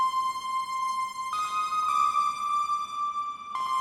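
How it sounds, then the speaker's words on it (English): Synth lead preset Beautiful Lead JG playing alone: a bright sustained tone holding a steady pitch, with brief brighter swells partway through, moderately quiet and unaccompanied. "The lead synths, I believe, it's called Beautiful Lead"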